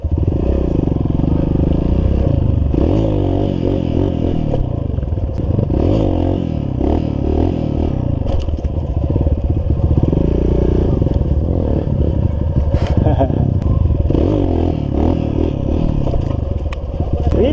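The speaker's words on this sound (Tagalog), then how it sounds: "Hindi makaya ng motor, mabigat." An enduro motorcycle in first gear strains along a trail, its engine droning loud and close with rising and falling revs, alongside clatter and scraping from the rough ground.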